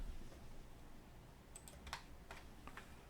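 Keys on a computer keyboard are tapped faintly in a quiet room, with a handful of light clicks clustered in the second half that end with a press of the enter key.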